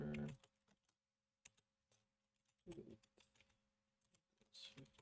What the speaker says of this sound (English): And I'm typing in stuff that is auto completed.